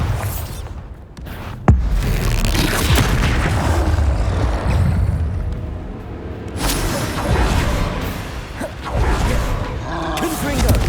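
A Bombarda blasting spell in Hogwarts Legacy explodes with a sharp crack near the start, followed by continuous rumbling and whooshing combat effects. A voice shouts spell names over the noise.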